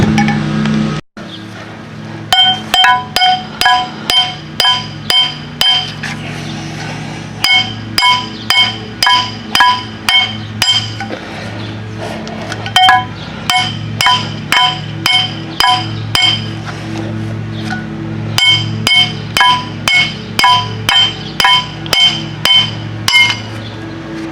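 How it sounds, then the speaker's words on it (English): Repeated sharp metallic hammer strikes on a rusted 1997 Land Rover front hub, coming in quick bursts of regular blows with brief pauses between, loud and close. "So just grab your hammer and start hitting back here."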